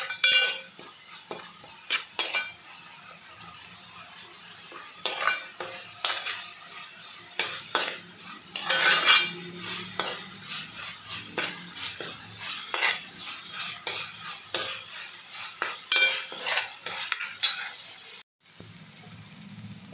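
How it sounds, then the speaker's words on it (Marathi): Masala paste stir-fried in a pan for prawn curry, loud close sizzling and frying with frequent spatula scrapes and clinks against the metal, a brief break near the end, no voices. "मसाला चांगला परतून घेऊया याच्यामध्ये"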